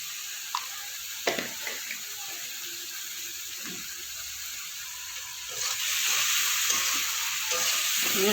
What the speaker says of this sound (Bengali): সমস্ত মশলাটা ভালো করে একটু মশলা দেওয়ার জলটা দিয়ে কষিয়ে নেব।